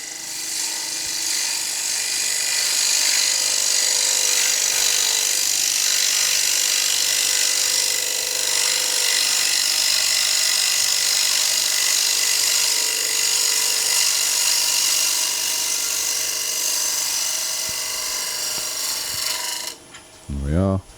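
Wood lathe spinning a pin-striped bowl while a bowl gouge takes a smooth finishing cut, a steady whirring hiss of cutting for nearly twenty seconds, ending with the machine winding down and a few clunks.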